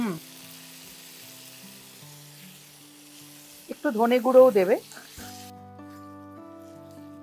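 Whole and ground spices, including cumin powder, frying in a pan with a splash of water for a restaurant-style Mughlai dal with bottle gourd; a steady sizzle runs throughout under talk, with a louder burst midway.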